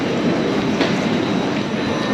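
A train standing at a Gare du Nord platform in Paris, giving off a steady, close, broadband rumble and hiss of rail noise that holds through the whole stretch with no voices.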